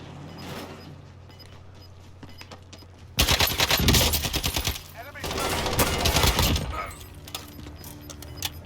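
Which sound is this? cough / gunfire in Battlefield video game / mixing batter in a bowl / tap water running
gunfire in Battlefield video game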